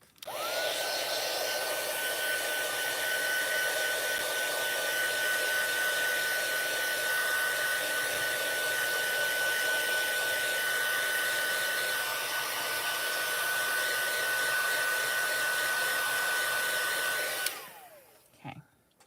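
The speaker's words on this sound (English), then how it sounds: "I'm going to dry this real quick with my heat tool" A heat embossing tool blows steadily for about seventeen seconds while drying ink on a rubber-stamped card, a loud continuous whine and rush of air that cuts off abruptly near the end.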